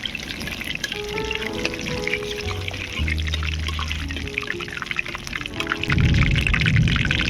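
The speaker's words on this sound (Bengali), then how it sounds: "এবারে দিয়ে দিচ্ছি পেঁয়াজ বাটা।" Onion paste hitting hot oil with bay leaves, dried chillies, cardamom, cinnamon and cloves for chicken chaap, giving a close, steady wet sizzle and pouring sound that swells louder near the end.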